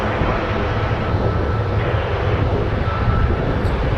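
Boeing 777 airliner departing Toronto Pearson, a loud, steady broadband jet roar that holds close and constant throughout, with no voices.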